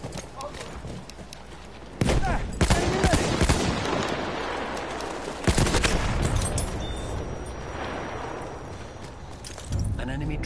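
Battlefield 1 gunfire, with bursts of shots and sharp broadband blasts hitting at about 2 and 5.5 seconds, layered over dense battlefield noise and game clatter that last through the whole clip while someone talks over it.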